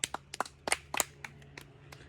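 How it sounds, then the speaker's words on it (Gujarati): A small, scattered burst of hand claps greets a participant in a prize hanging challenge. About a dozen sharp, uneven claps sound fairly close and thin out quickly. "તાળીઓની ગળગળાથી વધાવો"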